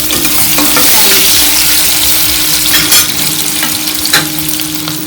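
Onions fry in hot oil for a red-sauce cheese pasta, a loud continuous sizzle with spoon stirs and scrapes against the pan at irregular moments, close and unaccompanied by speech.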